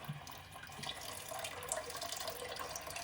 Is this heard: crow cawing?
no